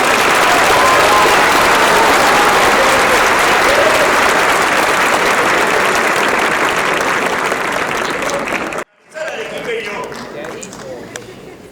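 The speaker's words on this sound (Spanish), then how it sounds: "Lo recibimos con fuertes aplausos" A large forum audience applauds to welcome journalist Gustavo Gorriti, loud sustained clapping for about nine seconds before it cuts off abruptly and a quieter room tone continues.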